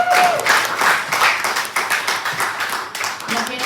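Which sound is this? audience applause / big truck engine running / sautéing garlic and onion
audience applause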